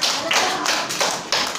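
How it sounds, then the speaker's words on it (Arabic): Several sharp knocks on a door during a classroom game, about four quick raps spaced unevenly and heard up close. "دق الباب"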